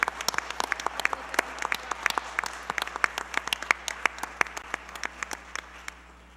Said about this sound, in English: Will everyone please join me in a round of applause for our world language teachers